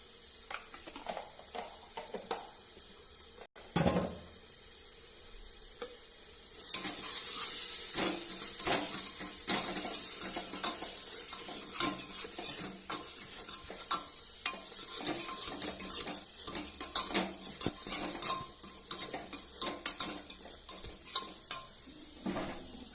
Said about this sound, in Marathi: आणि ह्याला मिक्स करून घेणार आहे आता।